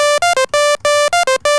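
A Sylenth1 synth patch with saw waveforms and eight voices plays a short bright melodic figure, buzzy stacked tones in quick rhythmic notes with brief gaps, loud and alone.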